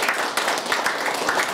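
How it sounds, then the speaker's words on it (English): Steady applause from an audience at a political endorsement interview event, a dense patter of many hands clapping at close range without a break. "Go ahead, clap."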